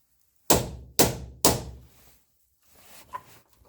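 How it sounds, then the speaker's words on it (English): Three sharp metallic hammer strikes on a centre punch set on a snapped rear subframe bolt of an Austin land in quick, even succession, each ringing briefly, followed by a faint clink. "So I've got a centre punch on that now"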